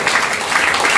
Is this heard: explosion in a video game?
no